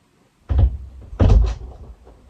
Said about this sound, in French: Peut-être fermer la porte.